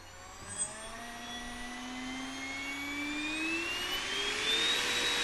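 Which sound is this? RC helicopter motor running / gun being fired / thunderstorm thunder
RC helicopter motor running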